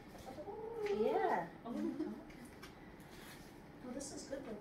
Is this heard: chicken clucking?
yes